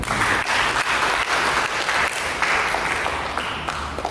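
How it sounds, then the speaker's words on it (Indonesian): A large church congregation claps steadily, a dense, even roar of applause that holds at the same level throughout. "Berikan tepuk tangan."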